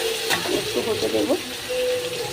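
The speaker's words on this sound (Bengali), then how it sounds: "আলুর সাথেই কিন্তু আমি টমেটোটা ভাজবো।" Potato pieces and tomatoes fry together in a pan for a katla fish curry, giving a steady soft sizzle with a few stirring scrapes, close and moderately quiet.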